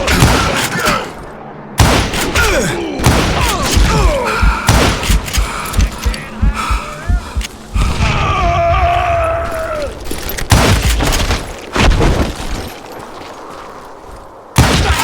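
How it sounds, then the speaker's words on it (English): A Gatling gun fires in the Western video game Call of Juarez: Gunslinger, loud rapid bursts of gunfire broken by short pauses, mixed with game effects and a brief raised voice. "Kid Curry opened up on me with a goddamn Gatling gun"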